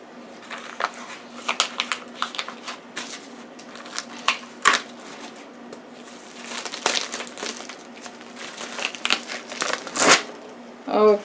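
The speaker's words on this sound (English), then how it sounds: "I'm going to take the wrapping off and we're going to cut it up into cubes" Plastic wrapping being peeled and crinkled off a butternut squash, with irregular crackling bursts close up, growing busier toward the end over a faint low hum.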